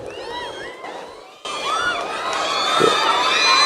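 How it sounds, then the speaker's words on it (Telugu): A large audience at a political speech in Andhra Pradesh cheers, shouts and whoops, a loud, dense crowd roar that swells and grows stronger toward the end. "మీరు చప్పట్లు కొడుతుంటే"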